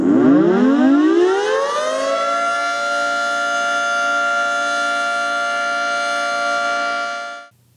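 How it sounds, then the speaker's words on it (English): A normal induction-motor 2T22 civil defense siren rises over about two seconds into a bright, sustained multi-tone howl, holding loud and steady before cutting out. "And here's the sound of a normal induction motor 2T22."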